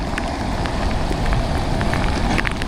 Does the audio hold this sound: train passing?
no